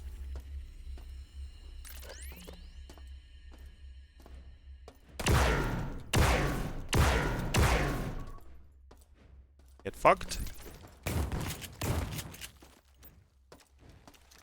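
A burst of several sharp, loud gunshots in quick succession from the video game System Shock, then more shots a few seconds later, with someone talking briefly between them.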